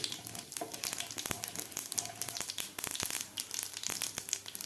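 Mustard and cumin seeds frying in hot oil for a rustic amaranth-leaf vegetable dish, a steady crackling sizzle with dense, irregular pops and spits close by, no voices.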